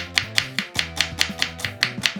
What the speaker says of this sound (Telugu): సో ఫస్ట్ ఫ్రైడ్ ఆనియన్స్ కోసం మనం స్లైసెస్ చేసేసుకుందాం.